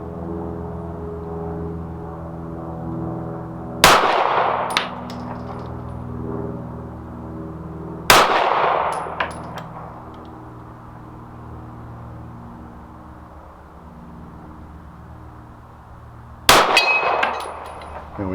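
Three loud, sharp pistol shots from a Smith & Wesson M&P 2.0 Compact 9mm, spaced several seconds apart, each with a short ringing tail and quiet range ambience in between.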